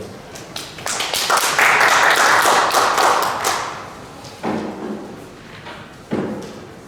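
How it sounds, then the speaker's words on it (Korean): A congregation claps briefly to welcome a pastor at a memorial hall designation ceremony. The burst of close handclaps swells and fades within a few seconds, followed by a couple of isolated thuds. "박수로 환영해 주십시오"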